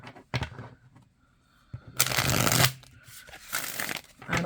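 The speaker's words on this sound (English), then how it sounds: "I don't have a problem shuffling this deck." A deck of slightly sticky playing cards is shuffled by hand in two brisk riffling bursts separated by quiet handling clicks and soft taps, close and clear with no talking.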